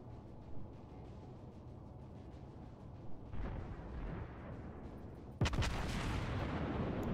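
Naval artillery on the Kaiser Nikolai I battleship in World of Warships fires in the distance as soft thumps, then a loud, close gun blast erupts late in the clip with a lingering rumble.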